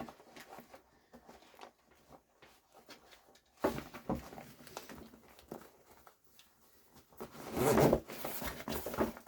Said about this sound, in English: zip your bag up